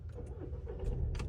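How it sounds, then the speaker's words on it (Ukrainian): A manual-transmission car is started during a driving lesson, with the clutch held down and the gearbox in neutral. The engine turns over in a brief, faint burst that swells slightly at the end. "Заводимо автомобіль."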